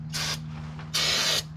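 Two short bursts of aerosol brake cleaner hiss close by while cleaning a 2002 Toyota Tundra's 4x4 parts, each about half a second, separated by a brief pause over a low hum.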